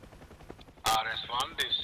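Gunfire in the DCS UH-1 Huey rescue mission flight simulator, heard from the pilot's seat: several sharp, loud bursts in quick succession over a low rotor and engine drone.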